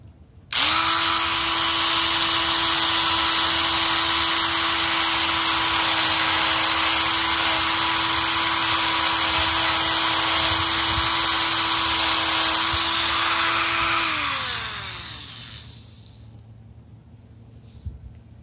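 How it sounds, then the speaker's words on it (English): Rotary tool spinning a small wire wheel attachment against a spark plug ground strap, a loud steady high-pitched whine held for about fourteen seconds, then winding down as the motor stops. "I'm gonna clean it up with a little wire wheel attachment"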